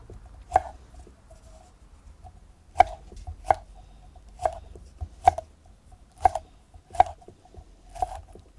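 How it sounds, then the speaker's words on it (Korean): Chili peppers being sliced with a knife on a cutting board while cooking grilled mackerel, giving crisp, isolated chops spaced irregularly about a second apart in a quiet room, fairly faint and close. "그리고 고추는 송송 썰어주세요."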